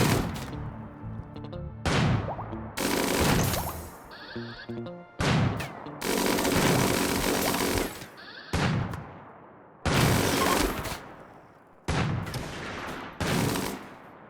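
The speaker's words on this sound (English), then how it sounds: "I think her head got shot off by the slug turret" Slug turret gunfire in a video game, a series of loud, harsh bursts that start and stop abruptly, some short and some sustained for a second or more, separated by brief quieter gaps.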